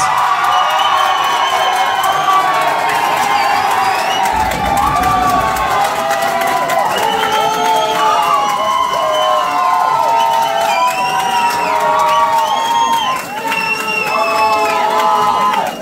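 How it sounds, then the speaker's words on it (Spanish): Studio audience at a talent show cheering and applauding for a competing group, with loud shouts, whoops and high children's voices over scattered clapping, sustained and close throughout. "Que sigan los aplausos para el grupo de Gonzalo Flores."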